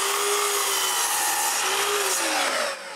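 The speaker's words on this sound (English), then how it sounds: "Next, I cut some wood." A hand saw cuts through a piece of wood for a lathe morse taper modification in a continuous, loud, close rasp of rapid strokes, ending with a slight drop as the cut finishes.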